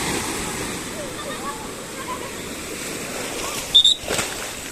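Ocean surf breaks on the rocky shore at Puerto de Santiago, Tenerife, during an evening walk, making a steady, close wash of rushing water with a brief louder surge of spray near the end.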